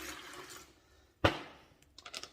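Water splashes into a 12lb rock tumbler barrel in one short, sharp pour, followed by fainter trickling and dripping as it settles.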